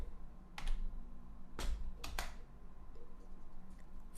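A few clicks on a computer keyboard, three or four distinct key taps with short gaps, quiet and close in an otherwise calm room.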